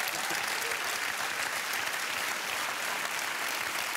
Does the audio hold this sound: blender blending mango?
no